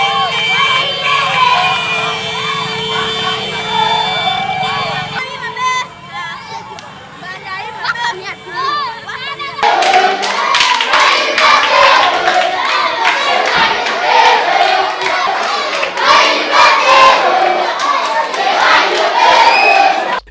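Excited crowd in the Plateaux department welcoming the Rotary Club of Pointe-Noire Djidji convoy: loud cheering, shouting and chatter with siren-like wails, rising into a dense roar of voices in the second half.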